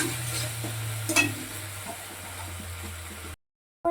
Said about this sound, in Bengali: এবার দেখো টমেটো দিয়ে দিচ্ছে আর নেড়ে দিচ্ছে